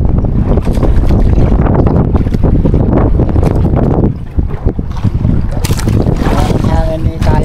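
Loud, constant wind buffeting the microphone, roaring over water with a boat's rumble underneath, briefly easing midway before surging again.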